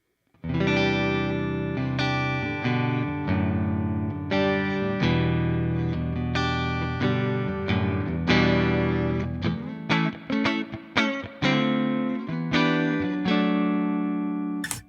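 Electric guitar chords ring out through a simulated Twin Reverb amp with a clean, reverb-heavy tone, sustained strums giving way to choppier picked notes near the end.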